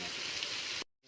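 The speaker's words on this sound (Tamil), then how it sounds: "வீட்டிலே அரைச்ச மிளகாய் பொடி, சிக்கன் மசாலா எல்லாத்தையும் சேர்த்து போட்டு நல்லா வதக்கிட்டு இருக்காங்க" Chicken sautéing in a pan with homemade ground chilli powder and chicken masala for a village-style country chicken dish, a steady close, dense sizzle that cuts off abruptly near the end.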